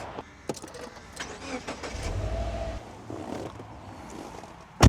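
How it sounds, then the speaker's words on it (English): A 2012 Subaru Impreza WRX STI A-Line heard from inside the cabin as it pulls away, with a low engine swell building for a second or so over clicks and rustles before settling, then a sharp thump at the end. "So driving the Subaru WRX STI A-Line"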